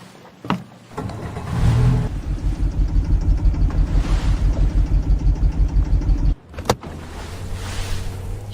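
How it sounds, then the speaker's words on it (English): A boat's engine revs up and settles into a steady, loud rhythmic throb after shifting into gear, running for several seconds before cutting out abruptly, followed by a brief clunk and lower engine idle. "Shifting the boat into gear"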